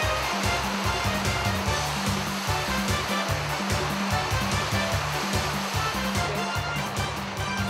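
Artificial surf from a FlowRider wave machine at a Yokohama leisure spot, a continuous loud rushing roar of sheeted water with steady low churning pulses, close and unbroken throughout.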